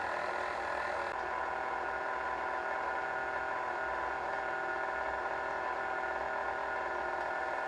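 A KitchenAid stand mixer runs on slow stir speed, used to wind a motor coil, giving a steady close mechanical hum with constant whirring and no change in pace.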